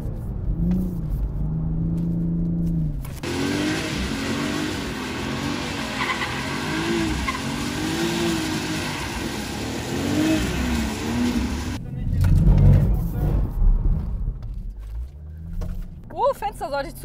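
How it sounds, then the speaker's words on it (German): Toyota GR Supra drifting, with a sustained high tire squeal over a rumbling, revving engine, close and loud, then easing into lower engine rumble; someone talks over parts of it. "Der driftet, wenn er driften soll."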